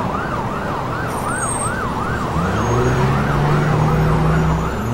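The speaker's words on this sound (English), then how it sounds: "we have an ambulance with its lights on, so let's add some sirens to this footage" An ambulance siren wails in a steady rising-and-falling cycle, joined partway through by the low rumble of passing traffic.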